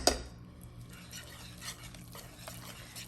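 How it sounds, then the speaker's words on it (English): A whisk stirs thick churro dough after eggs are added, making soft wet scraping and sloshing strokes against a bowl, with a sharp knock at the start and faint background sounds. "So we're going to add the eggs, stir a little bit."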